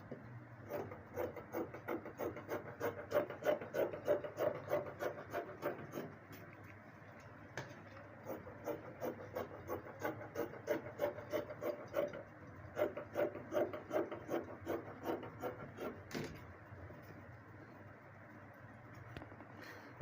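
Scissors cutting fabric pieces for corset lacing bars, a quiet run of quick, rhythmic snips in bursts with short pauses between, close up and with no talking.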